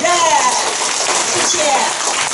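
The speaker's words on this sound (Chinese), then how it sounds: "我们现在用热烈的掌声欢迎李主任" Audience applause welcoming a speaker at a health lecture: dense, even clapping that keeps up throughout, with a voice faintly audible over it.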